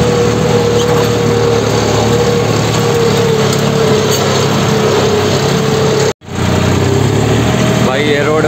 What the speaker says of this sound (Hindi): ऐसी रोड होना चाहिए बजाने भगाने का मजा है ट्रैक्टर को